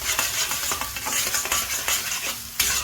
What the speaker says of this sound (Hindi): 1 से 2 मिनट आपने लहसुन अदरक को फ्राई कर लेना है